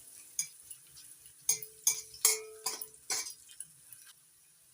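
Onion fries in a pan for a spicy pomfret curry while a utensil stirs it, giving a series of sharp scraping and clinking strokes over a faint sizzle, close and moderately loud.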